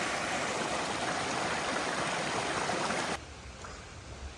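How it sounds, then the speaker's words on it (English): A steady, loud rush of creek water where big creeks join along the Appalachian Trail, filling the scene, then dropping abruptly to a quieter flow near the end. "big creeks were coming together."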